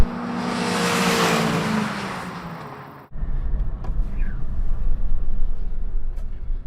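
Volkswagen GTI cars, a 16-valve and a Mark 4, accelerating hard in a drag race: loud engine roar climbing in pitch, then an abrupt cut to a lower, rumbling engine and tire noise as the cars pass, with faint voices underneath.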